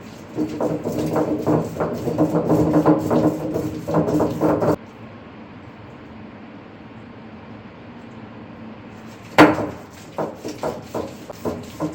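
Mint and coriander chutney being ground on a traditional ammi stone, with rhythmic scraping strokes of the stone roller in a steady run, then a quiet pause, then a sharp knock and more strokes.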